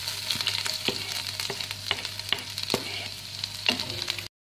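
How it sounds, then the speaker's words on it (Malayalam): Chopped ginger frying in coconut oil in a pan for beetroot thoran, a continuous close sizzle broken by frequent crisp crackles and spits, stopping abruptly at the end. "ഇഞ്ചി ഒന്ന് മൂപ്പിച്ചെടുക്കും"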